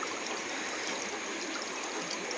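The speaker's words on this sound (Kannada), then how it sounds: "ನೋಡಿ ನೀರು ಹರಿತಾ ಇದೆ ಈಗ ಅಲ್ವಾ" Water rushes steadily through a drainage channel in an areca nut plantation, a continuous close trickling and gurgling hiss with no speech.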